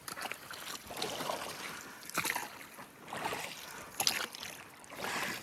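An engineless wooden fishing boat, later coated in fiberglass, being rowed with oars on open water; soft recurring splashes and sloshing come and go in a loose rhythm, close by, with no talking.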